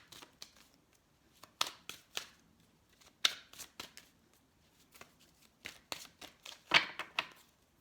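Oracle cards being shuffled by hand, a run of crisp papery riffles and flicks coming in irregular bursts, close and fairly quiet.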